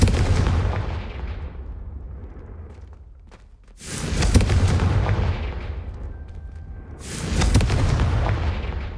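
A Confringo spell from the video game Hogwarts Legacy detonates in two loud, booming blasts a few seconds apart, each with a sharp crack and a rumbling tail over a low ambient background.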